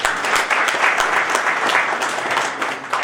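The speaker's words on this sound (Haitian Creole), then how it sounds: "On applaudit Patricia." A studio audience gives sustained applause to a guest named Patricia, a thick wash of clapping that holds steady and eases slightly near the end, heard alone without speech.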